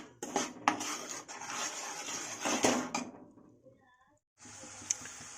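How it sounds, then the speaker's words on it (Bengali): Chana masala being stirred in a pan, with a spoon scraping and clinking against the metal in an irregular rhythm up close, then a brief pause before the stirring resumes. "এবার আমি এটাকে নাড়বো যতক্ষণ না কষে আসে।"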